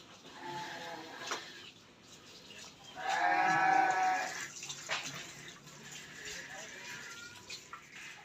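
Jumbo Garut cattle being bathed together in a barn give one drawn-out low call that swells and fades midway, with people talking nearby and splashing, rustling noise around it.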